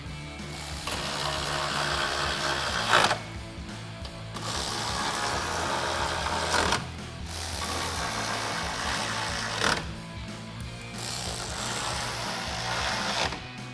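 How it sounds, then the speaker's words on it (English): Hand ratchet cranking in bursts as 10mm bolts are driven across the top of the grille on a 2016-2018 Chevrolet Silverado 1500, steady clicking runs of about three seconds separated by short pauses, close and loud with no talking. "we're gonna go ahead across the top and install all of our 10mm bolts"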